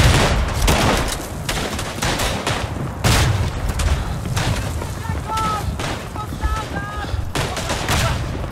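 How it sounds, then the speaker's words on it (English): Grenade explosion in the World War I shooter Verdun amid dense battlefield gunfire, loud sharp bursts and booms repeating throughout, with distant shouting voices. "Grenade."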